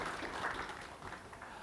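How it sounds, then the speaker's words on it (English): A conference audience at a Pacific Islands business briefing applauds a speaker, a faint, steady patter of many hands clapping heard from a distance. "Can we have a round of applause for Adrian"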